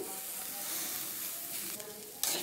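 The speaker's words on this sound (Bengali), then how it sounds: "একটু নাড়াচাড়া করে নিচ্ছি" Semiya upma with raisins being stirred in a pan, a steady sizzle and faint scraping running throughout, with a brief brighter burst of frying near the end.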